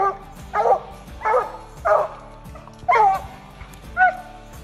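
A Bluetick Coonhound bays at a raccoon up a tree during a night coon hunt, giving six separate mid-distance barks and yips at a steady pace over a low background hum.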